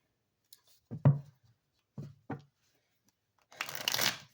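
Rider-Waite tarot cards shuffled by hand, several crisp riffling bursts with short pauses, ending in a longer, louder flurry, close and clear with no talking.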